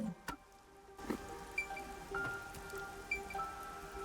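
Rain falls in the video game Master Detective Archives Rain Code, a soft, steady patter with scattered drips and small splashes heard alone at low volume.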